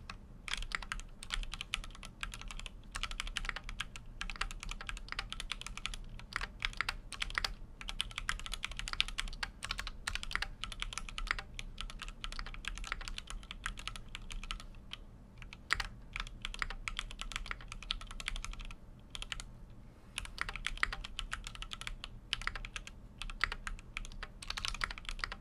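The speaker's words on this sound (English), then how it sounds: "Without further ado, to do some typing tests." A computer keyboard clatters through a typing test, quick irregular keystrokes pattering close and soft for the whole stretch, with brief pauses between bursts and no talk.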